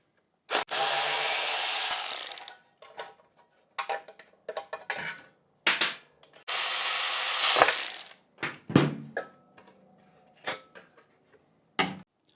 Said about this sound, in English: we're going to undo the original skid plates